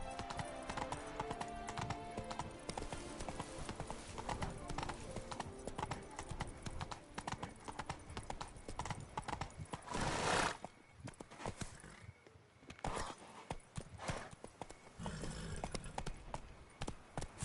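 Steady rhythmic clip-clop of the horse Roach galloping in The Witcher 3: Blood and Wine, continuous hoofbeats with a brief whinny, fairly faint under game ambience.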